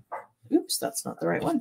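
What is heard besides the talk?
dogs barking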